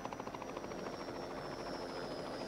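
A helicopter flying in the film The Thing, with a steady rhythmic rotor chop and a high engine whine, fairly faint but continuous.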